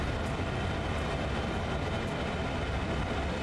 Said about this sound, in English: there is another train going right next to us